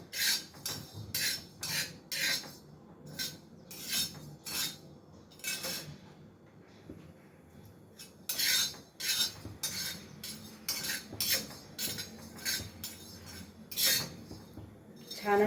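A spoon stirs coriander and cumin seeds roasting in a pan, scraping and clinking in quick bursts with a short pause midway, close and clear with no speech.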